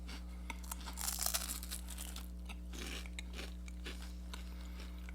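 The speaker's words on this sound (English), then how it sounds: "I'm not sure if you could hear that in the microphone of me chewing." Close, crunchy chewing of a battered pork tenderloin sandwich: crisp bites and crackling crunches cluster early, then continue as quieter, irregular chewing over a steady low hum, with no talking.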